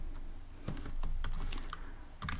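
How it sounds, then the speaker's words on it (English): Typing on a computer keyboard, a run of quick, light, irregular key clicks close by, alone with no voices. "I'm gonna type here"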